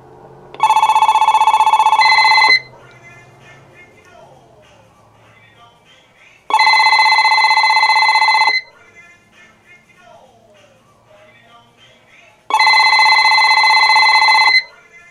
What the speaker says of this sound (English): I'll shut the handset ringer off and ring the phone again